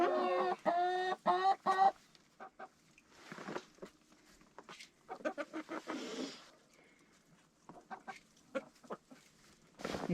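Chickens cluck and squawk in a coop on an off-grid Alaska homestead in subzero cold, loud harmonic calls at first, then scattered nearby clucks, shuffling and movement noises.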